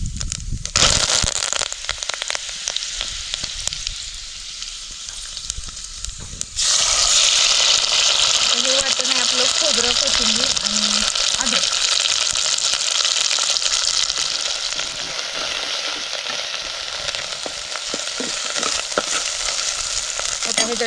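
Mustard seeds, cumin and curry leaves hit hot oil in a pan, bursting into a loud, steady sizzle with crackling pops that surges after a quieter start and continues close and constant.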